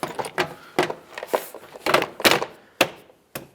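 A door panel on a 2003–2009 Toyota 4Runner is hooked over the door lip and pressed into place, giving a series of close, sharp plastic clicks and dull thunks at irregular intervals, with a brief scrape between them.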